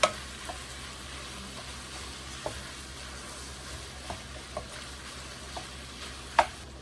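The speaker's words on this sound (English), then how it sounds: "I want to cook this down in here quite a bit because I want those onions to get nice and soft before I add anything else to this soup" Onions softening in a soup pot give off a quiet, even sizzle, broken by occasional sharp clicks and one louder tap near the end, with no talking.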